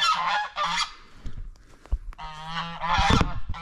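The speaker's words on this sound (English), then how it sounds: "let's grab my geese while I'm here" Geese honking close by outdoors near an ice bath, loud repeated nasal calls in quick overlapping bursts with short pauses between them.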